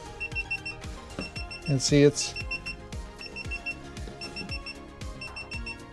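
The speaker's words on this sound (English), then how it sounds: "each time it beeps is when it gives a new measurement" An ELIKLIV two-in-one laser tape measure gives short, sharp electronic beeps over and over, one with each new reading, close by, with someone talking briefly over them.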